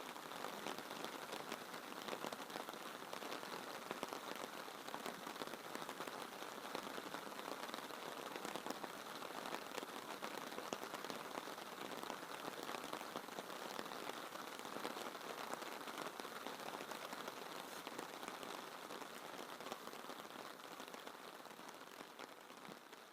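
Steady rain falls on a seaside campsite on the Hel Peninsula at summer's end, a dense, even hiss of drops pattering on surfaces that continues unbroken throughout with no voices.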